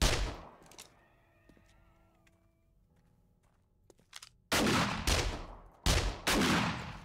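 Shotgun slugs fired in the video game 7 Days to Die: after a quiet stretch with faint tones and a few small clicks, two loud, booming blasts hit in quick succession, each trailing off briefly.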